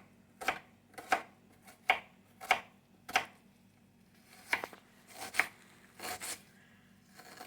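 Knife cutting through salted cod on a board in a cramped home kitchen, a series of crisp, sharp chopping strokes spaced unevenly, close and fairly quiet, with no talking.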